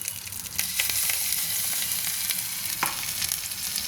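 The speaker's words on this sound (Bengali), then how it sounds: "এটা একটু ভাজা ভাজা হয়ে গিয়েছে, এবার আমি ডালটা দিয়ে দেবো" Chana dal paste fries in a wok with ginger, nigella seeds and asafoetida, giving a constant close sizzle broken by scraping stirs and a few clicks of a spatula, with no voices.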